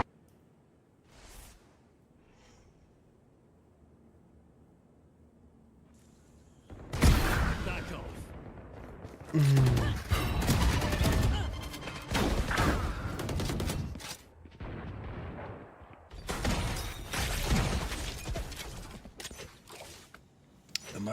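Gunfire in a Valorant esports match comes in loud, dense bursts of rapid shots and impacts, starting after a quiet opening and recurring in several clusters amid game effects and casters' commentary.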